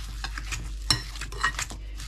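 A fork scrapes and clicks against a bowl while curd is mashed into stollen dough, with irregular light taps and a soft wet smear between them over a low steady hum.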